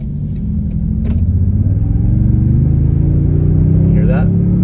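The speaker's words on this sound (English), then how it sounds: "Listen to this exhaust. It has a great sound to it." A 2023 Toyota Sequoia TRD Pro with a twin-turbo V6, in sport mode, gives a loud, deep exhaust rumble that climbs steadily in pitch as it accelerates, heard close from inside the vehicle.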